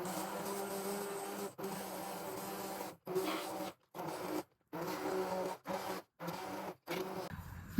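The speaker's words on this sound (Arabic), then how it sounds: "دابا غادي نطحنوها" A blender purees vegetable soup in a series of steady whirring bursts, repeatedly stopping and restarting with short pauses between runs.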